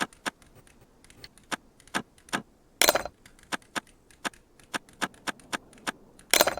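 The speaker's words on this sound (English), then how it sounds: "Just want a very barely audible noise of the lock turning." Sparse, sharp metallic clicks and ticks of a lock being picked in the video game SCUM, at irregular intervals, with a couple of louder rattling bursts, quiet and close.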